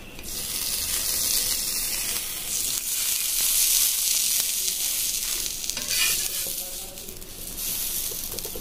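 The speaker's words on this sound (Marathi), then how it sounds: "इथे छान प्रकारे आपला पाव पण फ्राय होतोय" Pav bread sizzles in melted butter on a hot pan, a constant close frying hiss with brief scraping and stirring sounds over it.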